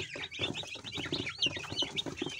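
Forty day-old broiler chicks in a brooder peeping nonstop, a dense, overlapping chorus of high, shrill chirps heard up close, with faint shuffling underneath.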